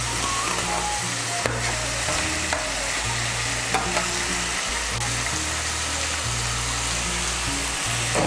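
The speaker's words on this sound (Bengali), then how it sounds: "ফুলকপিটাকে মিশিয়ে নেব মশলার সঙ্গে ভালো করে।" Cauliflower and fried potatoes being stirred with spices in a hot pan for a Bengali cauliflower curry, a steady sizzle with scraping and spoon clatter throughout, close and continuous.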